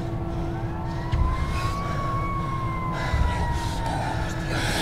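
A police siren wails steadily with a slowly rising and falling tone over a constant low rumble of traffic, fairly close.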